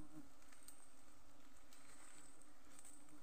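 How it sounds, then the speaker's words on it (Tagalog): A swarm of honeybees outdoors in the countryside makes a continuous, faint buzzing drone with a few sharper passes of individual bees close by, no talking. "Yan mga kahani, pukyutan oh."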